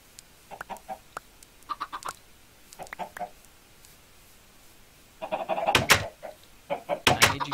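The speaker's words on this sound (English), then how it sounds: "I need you chickens to pick a spot." Minecraft chickens cluck in short, scattered bursts, growing louder and busier toward the end, with no talk over them.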